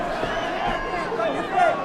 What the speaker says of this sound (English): Mexico City crowd getting behind Tony Ferguson here.